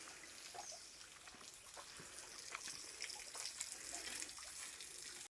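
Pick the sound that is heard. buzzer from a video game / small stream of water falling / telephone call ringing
small stream of water falling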